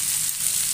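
Oil sizzling steadily in a pan while bitter gourd curry is cooked, a continuous bright frying hiss at even loudness with no talk.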